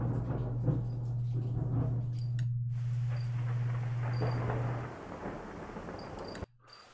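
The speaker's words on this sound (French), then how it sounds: "Voilà, les orages." Heavy rain with a deep, rumbling roll of thunder that swells and then fades, steady and fairly close, with no talking.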